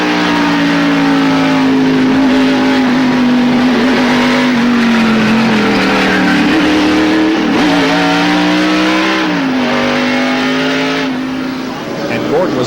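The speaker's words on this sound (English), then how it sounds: "Let's look at this in-car camera from Jeff Gordon's car and listen to it as they go down turn 3." A 1993 NASCAR race car's engine roars loud and close from the in-car camera, a sustained high-revving drone with pitch dips as the car works through the turn, while commentators talk over it.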